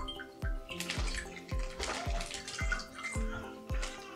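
Water leaking from a plastic bag pierced by pencils, falling as regular dripping splashes into a basin about twice a second, with faint trickling between drops, quiet and close.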